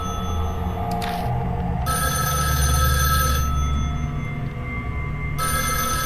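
A phone rings from the next room in the Spirit Hunter NG video game, bursts of a bright trilling bell repeating with short pauses between rings over a low background hum, no voices.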